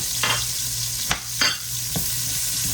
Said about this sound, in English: I'm doing peppers and onions in here because I need the gravy from that.